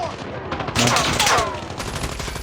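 Rapid automatic gunfire bursts from a Call of Duty match, loud and close, dense rattling shots swelling in the middle of the short stretch without any talk.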